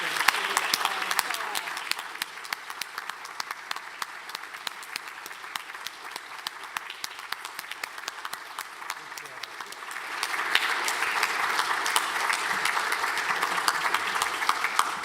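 A school audience at a Grade 8 closing ceremony stands and claps for the students, steady applause running throughout and swelling louder near the end.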